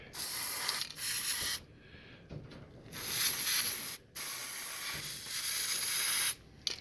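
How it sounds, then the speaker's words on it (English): Aerosol penetrating grease lubricant sprays onto car seat slides in several hissing bursts of a second or two, separated by short pauses, close up. "This is just a lube, penetrating grease, and you want to get down in your"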